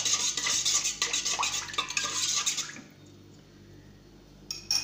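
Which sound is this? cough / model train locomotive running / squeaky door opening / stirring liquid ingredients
stirring liquid ingredients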